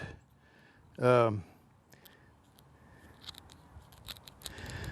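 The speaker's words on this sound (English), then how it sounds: "These scissors are not cutting it like I want it to cut" A person says something briefly, then scissors make faint, irregular crunchy snips as they struggle through a dried loofah.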